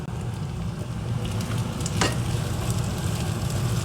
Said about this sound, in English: We're going to add in the mushrooms and the onions.